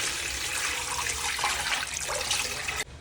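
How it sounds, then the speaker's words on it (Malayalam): Water poured into a cooking pot for chicken soup, a continuous splashing gush heard up close that stops suddenly just before the end. "ഒന്നേക്കാൽ ലിറ്റർ വെള്ളം ഒഴിച്ച് കൊടുക്കുക"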